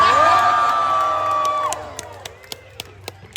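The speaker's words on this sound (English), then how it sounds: "Why is everybody cheering?" A crowd cheers and whoops at a Deadpool storytime show at Disney California Adventure, the loud roar fading after a couple of seconds into scattered claps and shouts.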